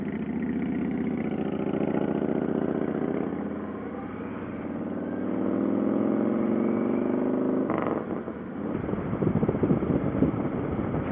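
A loud Milwaukee-built motorcycle rumbles steadily close alongside for the whole stretch, engine drone mixed with wind buffeting, turning rougher and choppier near the end.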